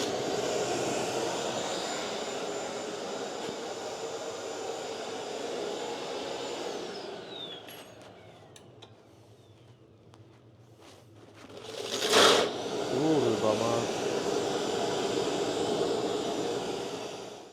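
A Parkside PSSO 500 A1 oscillating spindle belt sander hums steadily with a whining drone, dipping briefly midway before a loud burst and then running on at a constant level.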